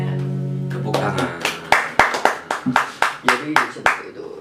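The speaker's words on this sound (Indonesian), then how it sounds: "Tepuk tangan." Hands clapping in a loose, uneven rhythm, about a dozen sharp claps close by, following a stretch of singing or talk at the start.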